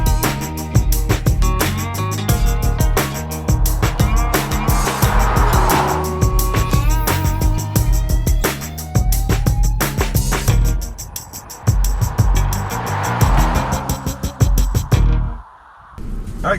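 A 2013 Ford C-Max Energi accelerates hard, loud and close, with a rising engine drone and gear-like pitch sweeps that carry across the whole stretch and cut out abruptly near the end.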